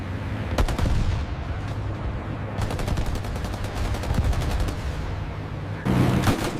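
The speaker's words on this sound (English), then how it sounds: "The All-American's gunners opened fire." Machine gun fire from the gunners of a WWII B-17 bomber, loud rapid bursts of shots in several separate volleys with brief pauses between them, over a steady low drone.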